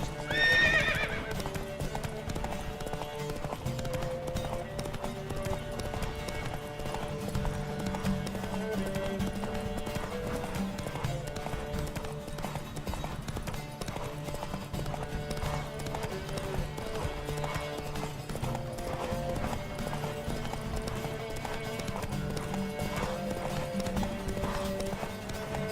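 Horses gallop in a race in the video game Witcher 3, a steady, rapid clatter of hooves that runs throughout over a constant tonal background.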